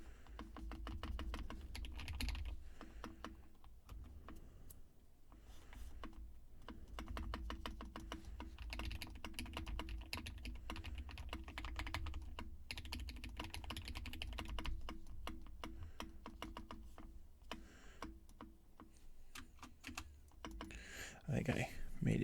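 Mechanical clacking of a Tecware Spectre 75 keyboard being typed on, quick irregular keystrokes with occasional heavier spacebar thuds, close and intimate, with soft whispering heard at times.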